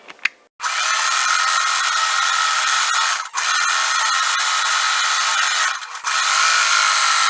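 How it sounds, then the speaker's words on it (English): A sewing machine stitches around the edge of a quilt block. The motor whirs in long, steady runs that stop briefly twice, close and loud, with no voices. "And now I'm going to go sew all the way around,"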